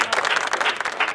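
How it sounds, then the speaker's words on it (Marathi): Brief burst of audience applause at a modak-making competition event in Pune, moderately loud, dense clapping with no voices over it. "जोरदार टाळ्या त्यांच्यासाठी एकदा"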